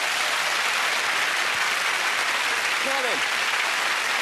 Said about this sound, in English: Give Zoe a big clap.